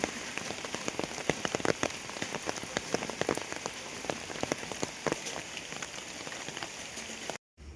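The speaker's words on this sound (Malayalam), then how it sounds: "പിന്നെ നല്ല മഴ അങ്ങോട്ട് പെയ്യാൻ തുടങ്ങി" Heavy rain pattering densely on a surface, a constant close wash of drops that cuts off abruptly near the end.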